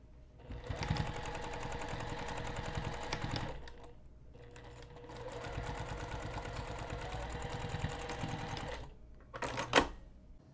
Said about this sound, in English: I'm going to take this over to the sewing machine, and we're going to sew both of these in place using 1/8 of an inch seam allowance